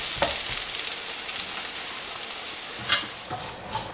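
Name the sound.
onions roasting in a pan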